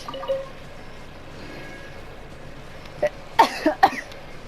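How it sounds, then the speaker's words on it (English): A few short coughs from someone recovering from COVID come close together near the end, following a quiet stretch with faint background noise. "I still cough because I had caught COVID"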